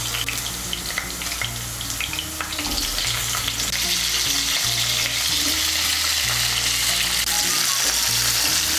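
Potato and cauliflower pieces fry in a pan, a steady loud sizzle with occasional stirring scrapes and clinks, continuous and close throughout.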